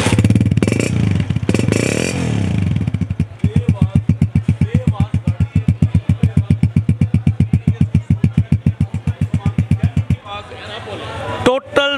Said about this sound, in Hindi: टोटल जेन्युइन की आवाज है गाड़ी।